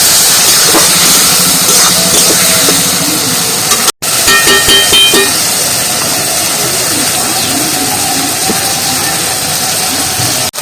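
Spice paste with a splash of water sizzles and hisses steadily while being sautéed in a pan for a pumpkin and red lentil dish, a dense continuous frying noise with a brief break partway through.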